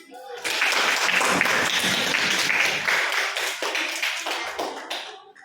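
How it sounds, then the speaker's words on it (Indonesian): A classroom audience at an Islamic senior high school claps after group presentations, a burst of many hands applauding loudly, then thinning and fading over a few seconds. "kita tepuk tangan."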